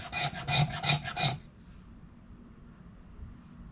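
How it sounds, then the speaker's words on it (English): A camp knife's spine scrapes small shavings, four quick, close rasping strokes in a steady rhythm, then a second or two of near quiet. "The spine's doing a pretty good job of getting little shavings off."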